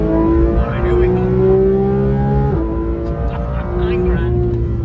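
A supercar engine revs hard toward 9,000 rpm while driving, its harmonics climbing through gear changes in a loud, close drone, with someone speaking over it.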